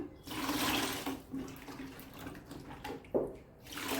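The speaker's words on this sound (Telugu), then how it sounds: "ఇందులో కొద్దిగా వాటర్ యాడ్ చేస్తాను" Water pours and splashes steadily into a container of starch for saree stiffening nearby, with a brief clatter partway through.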